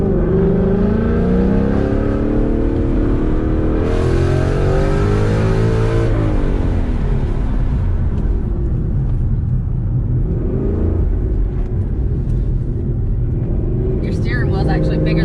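A Ford Mustang PP2 engine pulls hard while driving, a loud in-cabin drone sweeping up and down in pitch as it accelerates, with voices chatting over it.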